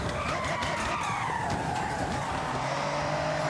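Tires squeal as a car slides under the handbrake in Forza Horizon 6, a loud continuous skid with a wavering screech over steady engine and road noise.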